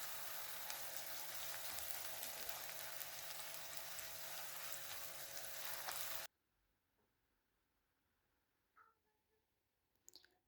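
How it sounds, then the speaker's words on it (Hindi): Spices fry with onion in hot oil, a dense bright sizzle heard close for about six seconds before it cuts off to near silence, broken by a couple of faint clicks. "तो 1 मिनट तक सिर्फ इसको हम फ्राई करेंगे इसी प्याज के साथ"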